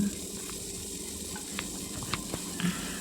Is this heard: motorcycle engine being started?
no